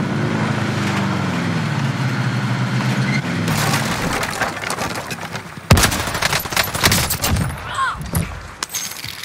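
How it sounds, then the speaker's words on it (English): Dense rapid gunfire crackles from the video game Call of Duty Warzone over steady engine rumble, with bursts of near and distant shots and a sharp loud crack partway through. "I just heard shots up here."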